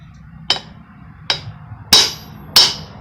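Hammer tapping a bearing race into the axle hub of a Ford E350 D60 full-floating rear axle: four sharp metallic knocks, spaced irregularly and close, the last two ringing louder.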